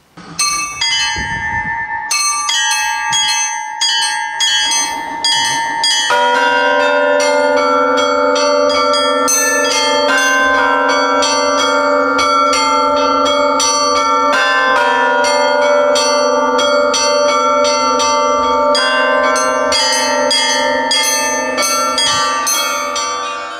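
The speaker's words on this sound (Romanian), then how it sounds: "chemarea la slujbă se face prin tragerea clopotelor" Church bells on Mount Athos ring out to call the monks to service, several bells clanging and overlapping in a loud, continuous, rich peal with no voices.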